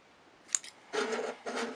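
Scissors trimming wire or small parts: a sharp snip, then two short rubbing cuts, close and quiet.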